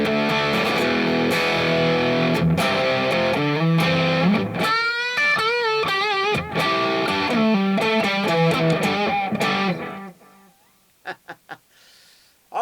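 Electric guitar played through a pedalboard with an echo effect, sustained distorted notes and chords ringing out with trailing repeats, then cutting to near silence with a few faint echoing plucks at the end.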